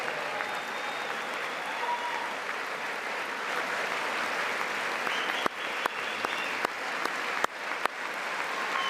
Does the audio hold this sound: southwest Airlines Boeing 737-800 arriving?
no